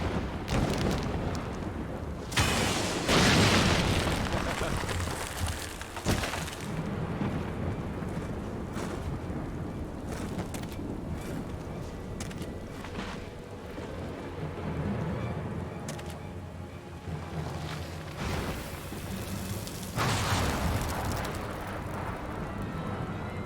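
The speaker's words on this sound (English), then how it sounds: "Can't have an important moment without lightning strikes" Lightning strikes and rolling thunder in Final Fantasy XIV, with loud cracking bursts near the start and again around the twenty-second mark over a continuous rumbling, stormy bed that fills the whole stretch.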